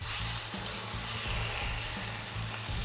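Two pounds of 85/15 ground beef sizzle and fry in a hot pot, a steady dense crackle with soft stirring thumps beneath.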